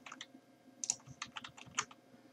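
Keystrokes on a computer keyboard while editing game files, a run of separate, uneven clicks at close range with a few sharper taps, no talking.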